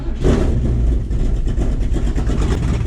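A Ford 351 Cleveland V8 in an XD ute runs with no exhaust. It makes a loud, close, rumbling idle with a rough, throbbing pulse that holds steady throughout.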